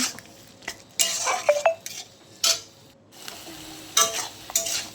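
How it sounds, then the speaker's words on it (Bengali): Chili and turmeric powder fry in a pan as a spoon stirs them, with intermittent scraping bursts, clinks against the metal and a soft sizzle between strokes. "লঙ্কা হলুদ গুঁড়োটা দিয়ে দিলাম কিছুক্ষণ নাড়ব"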